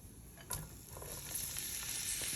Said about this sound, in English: A handful of diced garlic. Gonna saute them